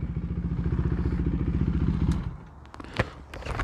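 A motorcycle engine idles with a steady, close, pulsing putter for about two seconds, then cuts off, leaving faint clicks, handling clatter and a sharp knock as the bike settles into quiet.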